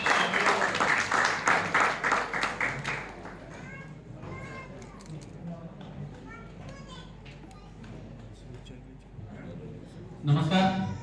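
Loud group clapping at a training contest prize distribution, a burst of strong rhythmic claps at the start that fades, with children's voices and chatter through the middle and a brief renewed burst near the end.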